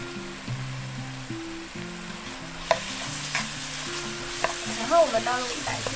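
Eggplant stir-fried in a pan with chili bean paste, soy sauce, pepper, sugar, white vinegar, Sichuan pepper powder and ginger for a vegetarian yu-xiang dish, giving a steady close sizzle with occasional stirring scrapes over soft background music.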